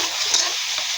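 Spice paste (masala) for a hilsa fish curry stirred and fried in a pan: a steady, dense hiss of sizzling with soft scraping strokes of the spatula, close and continuous.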